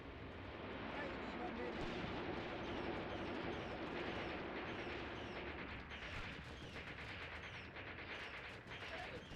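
Gunfire in the Mius Front war game, a dense, continuous rumble of rifle and artillery fire with scattered sharper shots, heard under voices talking.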